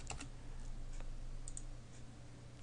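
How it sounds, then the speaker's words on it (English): Light typing on a computer keyboard while entering a vendor name in tenant file software, a few faint scattered clicks and keystrokes over a low steady hum. "I'm going to type"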